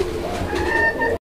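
A pair of Bangladeshi deshi pigeons give a brief close, throaty coo, a low rolling murmur that cuts off abruptly.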